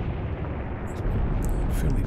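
An artillery barrage rumbles through a WWII battlefield in Graviteam Tactics, a continuous heavy roar of overlapping distant blasts that thickens and grows louder halfway through, with faint sharper cracks on top and no voices.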